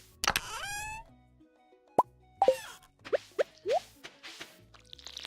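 In Stardew Valley, a watering can waters crops with a string of short, bright liquid plops and drips, several quick splashes following one another, up close and clean.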